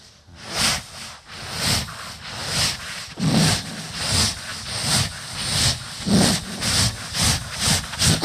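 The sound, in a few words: voice imitating a train whistle and steam hiss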